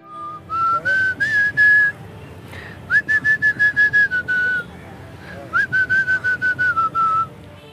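A human voice imitates drum beats and effect sounds, giving short rhythmic percussive bursts in three quick phrases. A whistled, sliding melody line rides over the bursts, and the sound is close and fairly loud.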